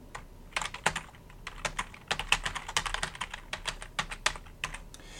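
Fingers tap out text on a computer keyboard in quick, uneven bursts of clicks, close and clear with short pauses between runs of keystrokes.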